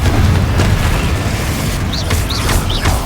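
Booming blasts and crackling bursts in Hogwarts Legacy from the Confringo fire spell, loud and dense with deep rumbling, several impacts layered over continuous combat noise.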